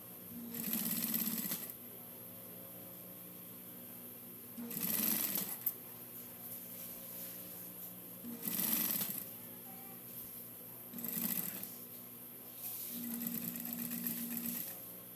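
Sewing machine stitching through thick jogging pants fabric in bursts, five separate runs of rapid mechanical clatter separated by quieter pauses with a steady low hum underneath, close and clear.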